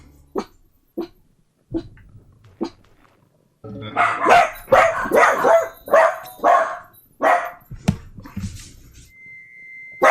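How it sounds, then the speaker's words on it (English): Dogs bark from behind a shut back door, starting with a few sparse, spaced woofs and then breaking into a run of loud, rapid barking, with a brief whimper near the end. "because I shut the back door on the dogs. Who's barking at?"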